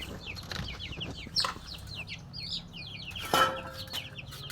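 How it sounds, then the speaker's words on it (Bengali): Young chicks kept in a small enclosure, peeping and chirping rapidly in a close, busy chorus, with a couple of louder bursts of clucking and wing flutter. "এই তো মুরগির বাচ্চাগুলোকে এইভাবে এখানে আমরা রাখছি।"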